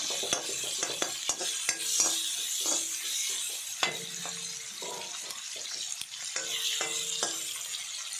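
Chopped onions frying in a pan for Tulunadu-style chicken pulli munchi: a steady sizzle broken by frequent sharp clicks and scrapes of a spoon stirring against the pan, close and fairly loud, with no talking.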